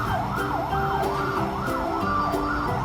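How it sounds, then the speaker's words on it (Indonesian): A toy fire engine's electronic siren wails up and down in quick repeating sweeps, close and steady, over a faint rhythmic electronic pulse. "Ini ada mobil pemadam kebakaran."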